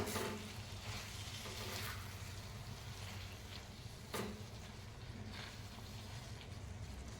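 Egg masala for tawa anda masala being stirred and mixed as it fries in a hot pan, giving a steady close sizzle broken by a few scraping stirs, with no talking.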